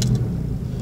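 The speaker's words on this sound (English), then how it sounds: "So we'll start the engine and it should give us a reading straight away." A Porsche 911 engine runs steadily with a low, throaty rumble right after starting, close and fairly loud throughout, with no speech over it.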